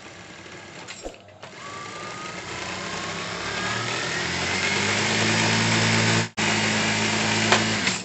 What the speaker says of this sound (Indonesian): Untuk bagian bawah kita nyepul dulu dan nyalakan dulu mesinnya.